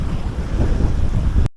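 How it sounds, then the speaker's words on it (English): Wind buffets a microphone at Lake Isabella, making a loud, continuous low rumble that cuts off abruptly at the end. "Sorry about the wind."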